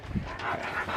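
A dog whines and pants close by, giving a short high whimper early on followed by breathy panting, with no talk.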